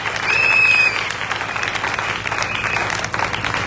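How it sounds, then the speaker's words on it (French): A church congregation applauds loudly and steadily, a dense wash of clapping from many hands filling the room, with a brief raised voice or cheer near the start. "Maintenant acclamez pour vous-même."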